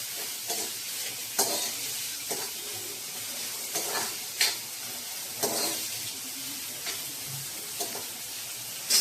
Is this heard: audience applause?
no